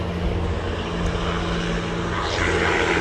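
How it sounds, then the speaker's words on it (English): A life flight medical helicopter passes overhead, its engine droning in a steady, continuous hum of moderate loudness with no one speaking. "There is a life flight helicopter going overhead."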